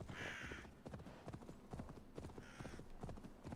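Horse hooves clip-clop in Assassin's Creed Valhalla, a steady, fairly quick run of close, loud hoofbeats with faint rustling between them.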